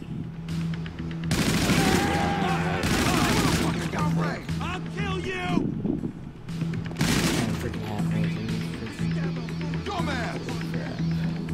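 Gunfire rattles through a GTA 5 Online match in loud, dense bursts, with voices talking excitedly over the shots.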